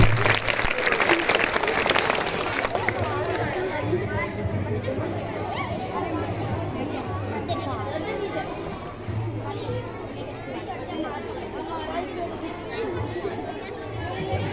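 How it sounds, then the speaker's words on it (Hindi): Applause breaks out from the audience after a school play about air and water at a girls' higher secondary school, starting strong and settling into steady clapping mixed with crowd chatter and a low hum throughout. "तालियों के साथ बहुत जबरदस्त तालियां"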